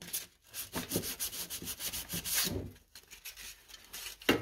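Sandpaper rubbing over an existing lacquer finish on a guitar, heard as quiet, close, rhythmic back-and-forth scratchy strokes with a few sharper scrapes.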